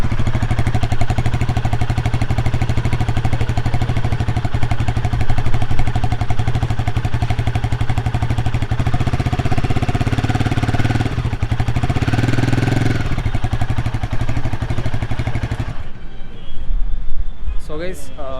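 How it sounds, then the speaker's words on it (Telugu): A Royal Enfield Himalayan 450 with a short-stroke engine idling close by, a steady low throbbing hum that runs continuously and cuts off near the end, with someone talking over it. "సౌండ్ విన్నారు కదా. సో ఇంతకుముందు 411 కన్నా కొంచెం డిఫరెంట్గా ఉంది, ఎందుకంటే షార్ట్ స్ట్రోక్ ఇంజన్ కాబట్టి."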